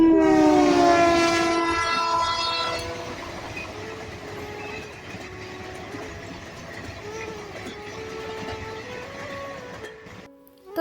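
A train passes at a railway crossing, its horn blaring loudly at first and then fading into a steady rumble and rattle of wagons rolling by, close and continuous for several seconds.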